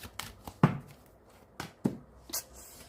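Tarot cards being shuffled by hand: a few separate soft riffling and tapping bursts, close and quiet, with no talking.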